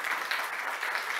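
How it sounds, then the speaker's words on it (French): Brief, moderately faint burst of audience applause at a conference talk, even clapping filling the short moment without voices. "Encore une fois, Philippe Nadeau, on l'applaudit."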